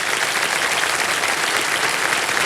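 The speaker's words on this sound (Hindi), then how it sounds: "एक बार जोरदार तालियां बज जाए इनके लिए." Studio audience applause on the Hindi quiz show Kaun Banega Crorepati, a loud, dense, continuous roar of clapping throughout, with no voices over it.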